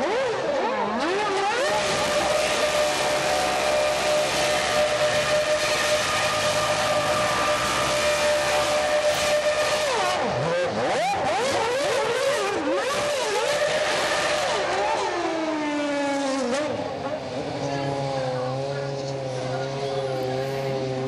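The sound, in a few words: McLaren Formula One car driving past, city racing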